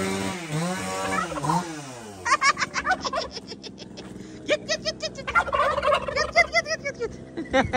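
Turkeys gobble loudly in rapid, repeated bursts close by, their warbling calls overlapping one another across the whole stretch, with a motor-like rasp underneath and no speech.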